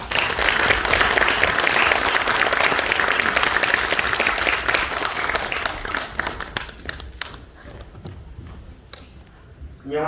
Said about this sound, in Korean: 뜨거운 박수로 모셔보겠습니다.